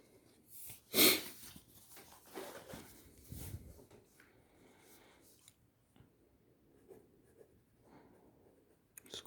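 A Scrikss 419 fountain pen scratches softly across 100 GSM Paper One copier paper in short, quiet strokes close to the microphone, with a sharp sniff or breath early on and faint pauses between marks.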